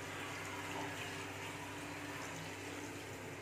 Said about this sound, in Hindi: अब इसमें हम पानी डाल देंगे।